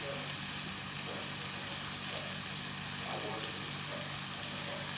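Beef browning in a hot pan over high heat gives a loud, steady, close sizzle that hisses without a break for the whole stretch.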